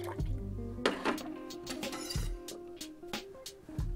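Freshly pressed orange juice is poured for a Monkey Gland cocktail, a close, gurgling trickle with small drips and splashes that runs throughout without talking.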